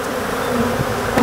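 Africanized honey bees drone steadily in an open hive during a queen introduction, a close, continuous buzz with no voices.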